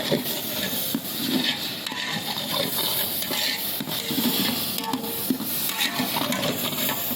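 A cook stirs frying food seasoned with turmeric at a street-side eatery, with constant sizzling and busy metal scraping and clatter of a utensil against the pan, dense and close throughout.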